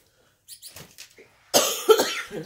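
A burst of harsh coughing follows some quieter breathy vocal sounds, with several rough coughs in quick succession, close and loud.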